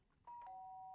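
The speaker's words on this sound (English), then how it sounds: "The sharp sound of the doorbell pierced my sleepy haze and pulled me back to the real world" A doorbell in the video game Danganronpa rings with a clean two-tone electronic chime that sustains its second note, bright and alone against a faint background.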